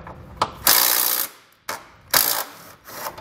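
A hand ratchet working on the 14mm bolts of a tow hook on a vehicle frame rail, with loud close clicking strokes in two bursts separated by short pauses.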